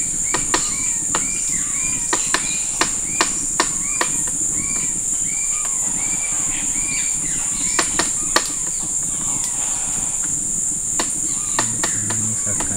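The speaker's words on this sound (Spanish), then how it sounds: "Ahí tenemos al carpintero." Sharp woodpecker taps ring out in short irregular bursts over a constant high insect drone, with faint bird calls in between.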